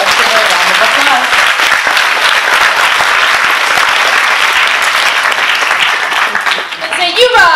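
Loud, sustained applause from a school audience honoring a student at an elementary school assembly, dense clapping for about seven seconds before fading, with a few voices emerging near the end.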